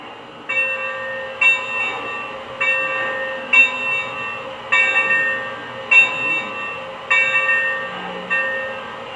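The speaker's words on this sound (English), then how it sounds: "The bell." The bell on a Lionel Legacy AT&SF 4-8-4 Northern model train rings in a steady rhythm, about eight evenly spaced strokes, each ringing briefly before the next.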